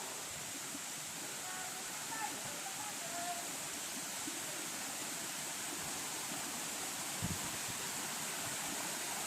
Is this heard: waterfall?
yes